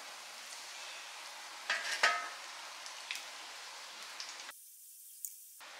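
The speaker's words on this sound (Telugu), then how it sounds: "అలాగే మిగతా లెగ్ పీసెస్ కూడా ఫ్రై చేసి లాస్ట్లో మొత్తం ఒకేసారి చూపిస్తానండి" Chicken leg pieces for a potato and chicken drumstick dish fry in a pan, making a soft, steady sizzle with a few light clinks around two seconds before the sound cuts off near the end.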